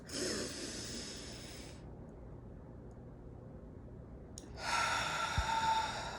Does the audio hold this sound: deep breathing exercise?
yes